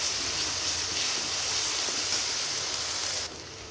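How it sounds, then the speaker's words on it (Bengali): Spice paste sautéing in a pan for a fish-head vegetable ghonto, a continuous hissing sizzle close by that drops abruptly near the end, no voices. "একটু মশলাটাকে কষিয়ে নেব।"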